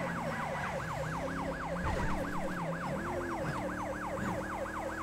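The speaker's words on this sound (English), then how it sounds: "Go ahead and kill that siren." A police siren in Grand Theft Auto V wails in a fast, regular rising-and-falling cycle, steady and moderately loud, over a low engine and traffic drone.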